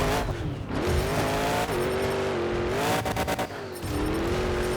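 Growling monster truck engines from the Monster Jam Showdown game rev up and down in a steady, loud roar, punctuated by rapid popping exhaust crackles that sound almost like gunfire.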